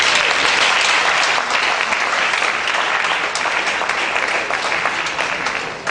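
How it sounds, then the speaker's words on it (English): A seminar audience at a gender studies centre's annual event gives a loud, sustained round of applause. Many hands clap close and steady with no talking, and the sound eases slightly toward the end. "round of applause."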